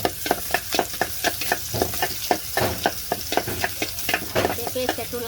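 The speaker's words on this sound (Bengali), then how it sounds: "এখন আমি পরিমাণ মতন পেঁয়াজ দিব।" Onions added to hot oil in a home Bengali kitchen for a prawn and ash gourd curry, frying with a loud sizzle and repeated scraping stirs in a quick, steady rhythm, close up with no talk.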